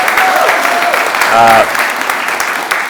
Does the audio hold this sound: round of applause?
yes